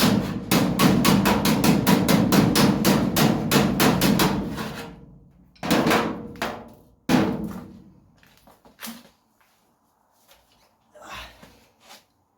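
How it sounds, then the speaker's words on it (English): A hammer and dolly shape the welded, heat-warped steel boot floor and valance panels of a classic Mini MK3, with about four seconds of rapid, loud metallic blows, then a few scattered groups of strikes and quieter taps. "use this hammer and dolly just to ease these into the correct shape"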